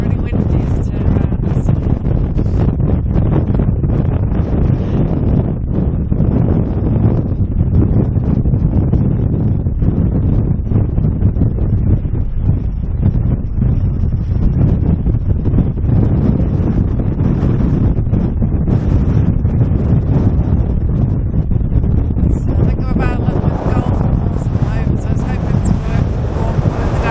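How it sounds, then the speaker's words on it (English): Strong wind on the coast near Skegness buffets the microphone as a loud, continuous roaring rush with rumbling gusts that lasts throughout, close and dominant, with a brief brighter flutter near the end. "It may sound really windy as I turn around."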